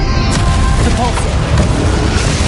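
A Depulso force spell cast in Hogwarts Legacy lands as a loud, dense booming blast, a short sharp impact rolling over constant low rumble and battle noise, with a voice calling out partway through.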